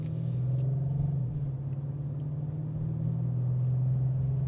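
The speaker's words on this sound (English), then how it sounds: "the exhaust will filter in all the time, even in a custom mode" A 2026 Audi RS7 Performance with a 621 hp engine driving along, its exhaust giving a steady low rumble heard from inside the car, continuous and even throughout.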